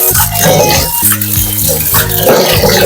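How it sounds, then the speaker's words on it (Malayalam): Soaked basmati rice is swished and rinsed in water, close splashing and sloshing in short loud bursts over a few seconds. "ഇത് ബസ്മതി റൈസ് ആണ്. വെള്ളമൊക്കെ ഒന്ന് മൂക്കിട്ട് നല്ല വെള്ളം കൊണ്ട് കഴുകണം കേട്ടോ."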